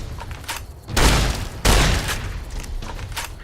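Heavy booming blasts of a 40mm grenade launcher in the video game Fallout New Vegas, two loud broadband explosions about half a second apart, each with a long rumbling tail, close and dominant with faint noise around them.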